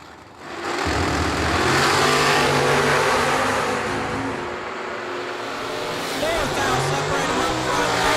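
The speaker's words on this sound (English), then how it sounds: "Two very clean Camaros right here." Two clean Camaros launching side by side at an old-school bracket drag race, engines roaring loud and steady for several seconds with a rising rev near the end over broad crowd and track noise.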